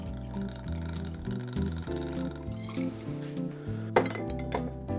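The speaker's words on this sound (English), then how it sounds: "I'm gonna make a gin Rickey here. I've got the Bombay Sapphire." Two ounces of Bombay Sapphire gin poured into a glass for a gin rickey, a close, gurgling pour with glassy tones shifting in pitch, ending with a sharp clink.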